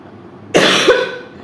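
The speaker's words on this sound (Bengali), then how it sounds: "দেখেছো কাশির অবস্থা" A single harsh cough from a person with a sore chest: one sharp burst quickly followed by a smaller second catch, loud and close, with quiet room air before and after.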